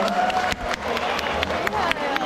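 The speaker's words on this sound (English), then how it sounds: "So everyone, a round of applause for Hummingbird" An audience at a birthday celebration applauds and cheers, a dense wash of clapping with scattered sharper claps and crowd voices throughout.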